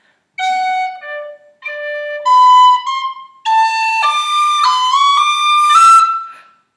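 Phrase 3 of the tune Kitty's Rambles played on a whistle, a longer flowing line of distinct tongued notes that climbs toward the end, loud and close with no voices.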